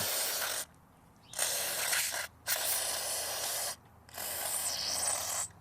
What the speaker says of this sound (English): We're just going to spray out the cup.